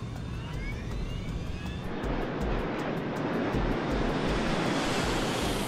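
Airliner engines build to a loud, steady roar of takeoff thrust, broad and rushing like wind, growing fuller and denser over several seconds without any voices.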